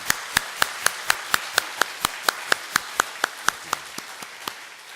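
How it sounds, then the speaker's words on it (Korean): Steady, evenly spaced claps ring out in a church service as the congregation applauds a musician, about twenty sharp beats in a regular rhythm that gradually soften toward the end. "그런 의미로 이분을 위해서 특별히 박수 한번 보내주십니다"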